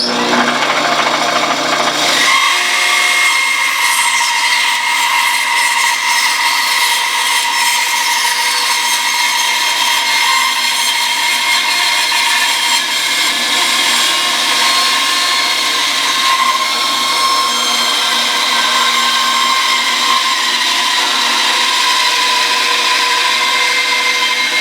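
A saw, likely a bandsaw, cuts through a wooden heel block in a long continuous pass. The sound is a close, loud, steady rasping drone that starts after a brief motor hum and runs on without speech.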